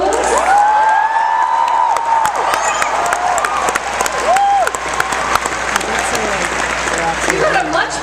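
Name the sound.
audience applause at MINECON Las Vegas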